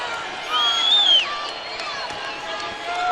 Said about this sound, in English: Crowd trying to urge Boise State back to their first half level of efficiency